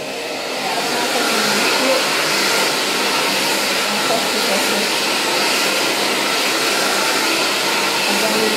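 A Babyliss Sensor digital hair dryer on its thick-hair drying setting blows a steady, close airy whoosh that rises within the first second and then holds evenly to the end.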